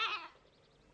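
A goat bleats once, a short loud wavering cry at the start that quickly fades to quiet background, alone with no talk.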